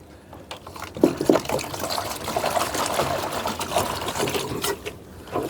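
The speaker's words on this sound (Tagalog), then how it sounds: "lagyan ko pa rin ng konting tubig mga kajuit para kapag mainit isa may paglulubluban sila" A small amount of water pours steadily into a container, trickling and splashing close by for several seconds after a brief start, with no talking.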